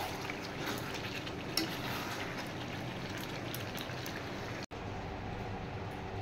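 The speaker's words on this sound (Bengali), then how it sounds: "বন্ধুরা তাহলে চিকেন কষানো তো হয়ে গেছে, এবার আমি জল দিয়ে দিচ্ছি।" Water poured into a pan of cooked, spiced chicken makes a steady, dense rushing and sizzling wash that runs unbroken for several seconds with a brief cut near the end.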